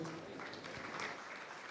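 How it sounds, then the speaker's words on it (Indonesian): Audience applause at a regional party assembly in Aceh, a short burst of continuous clapping from a hall full of people, fairly even in loudness. "Beri tepuk tangan untuk"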